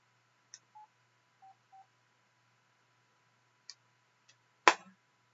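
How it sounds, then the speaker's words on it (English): While a phone is being switched off, its buttons give a few sparse, short, quiet beeps spread over several seconds, ending with a sharper click. "I need to turn my phone off"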